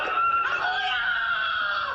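A child screams in a filmed scene during the Syrian uprising, a high sustained wailing cry that holds loud and strained for about two seconds.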